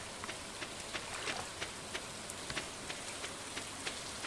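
Steady rain patters softly in the video game Stardew Valley, a faint even hiss broken by small scattered drop ticks, with no voices.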